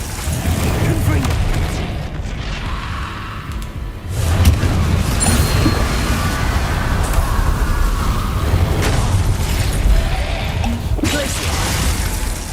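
Repeated Confringo fire-spell blasts in the video game Hogwarts Legacy, heavy booming explosions layered over a continuous dense crackling roar for the whole stretch.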